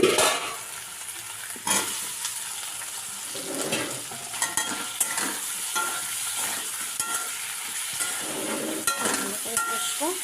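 Fried potatoes stirred and sautéed in a spice masala with turmeric in a pan, a continuous soft sizzle broken by repeated spoon scrapes and light clinks, close.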